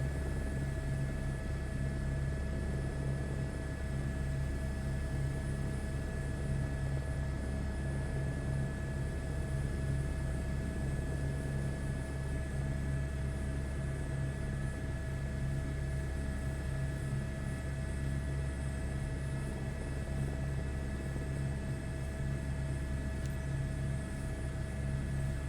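Airbus helicopter in Microsoft Flight Simulator 2024 makes a steady, continuous rotor-and-turbine drone with low thumping and fixed high engine whines, holding constant throughout with no talk.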